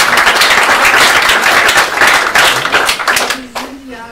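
Audience at a humanist salon event in Berlin breaking into applause, loud close clapping from a modest crowd that thins out toward the end as a voice begins speaking.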